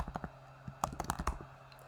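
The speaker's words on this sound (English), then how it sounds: "and I'm putting in the password," A password being typed on a computer keyboard during an app sign-up: a quick, uneven run of light key clicks, close but quiet, with no talking.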